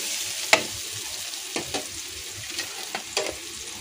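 Chopped tomatoes frying with onion in a pan for a sukat chutney, a close, bright sizzle with sharp spoon clinks and scraping strokes as the mixture is stirred, heard alone without talk.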